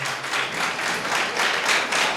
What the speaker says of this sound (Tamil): நல்லா கைத்தட்டுங்க பார்க்கலாம்.